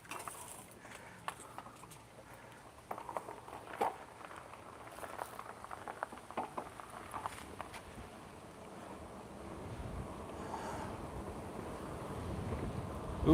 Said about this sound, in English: Ooh, it's windy and cold.